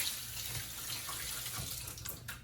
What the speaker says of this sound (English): First you gotta wash off her hands.